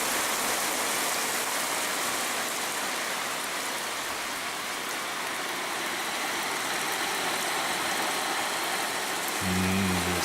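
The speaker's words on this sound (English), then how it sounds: "You can probably barely see it, but it's raining a lot. You can probably hear it though." Heavy rain pours down at night in a steady, dense hiss that stays loud and unbroken, with a faint low engine hum beneath it near the end.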